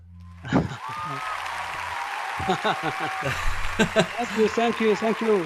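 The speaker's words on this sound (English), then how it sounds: "at the end of a successful class, you get a big round of applause" Applause from participants at the end of a watercolor painting class, where students painted a town scene. Scattered clapping runs beneath steady talking and light laughter.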